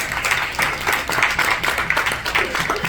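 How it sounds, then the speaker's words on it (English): Audience applause for a guest speaker at a women's wealth-building event, a smaller group clapping with distinct individual hand claps in an uneven rhythm, fairly close and moderately loud. "Please give her an applause."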